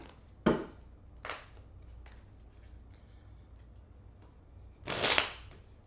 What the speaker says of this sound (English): I'll shuffle 2 more times